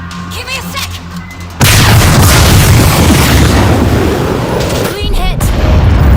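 A missile fires and detonates in the World War Z video game, a heavy booming blast that erupts abruptly and roars on loudly with a long rumbling tail, while game voices talk before and over it.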